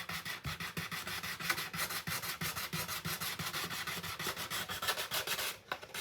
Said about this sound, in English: Just got to be very careful when you're doing the filing